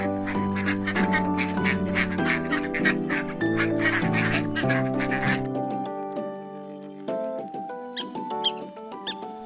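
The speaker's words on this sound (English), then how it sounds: "Duck" A duck quacks in a busy run of nasal calls, overlapped by high squeaky chirps and sustained tonal notes, fading into sparser clicks and calls toward the end.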